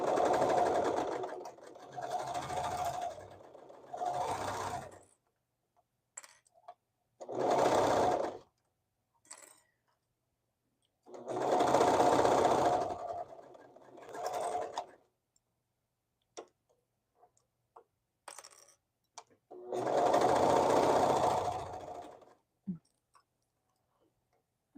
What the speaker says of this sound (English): I am serging off the edge that has my gathers as I'm going around